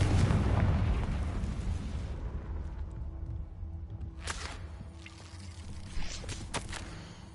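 Confringo, a fire spell cast in the Hogwarts Legacy video game, sets off a loud explosive burst that rumbles and fades over several seconds, followed by scattered crackles and pops at a moderate distance.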